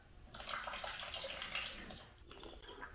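Fuel pours freely from the disconnected fuel line of a 1994 Mercury 5hp longshaft outboard, a faint steady splashing trickle that eases off toward the end, no voices.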